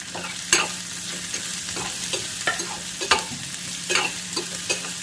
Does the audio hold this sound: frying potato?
yes